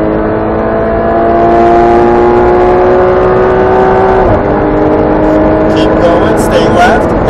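A Porsche Cayman 718 GTS accelerates hard at full throttle on a track, its loud engine note climbing steadily, dropping briefly at a shift, then climbing again, with an instructor talking over it from inside the cabin.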